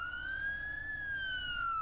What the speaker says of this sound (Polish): straż pożarna, sygnał.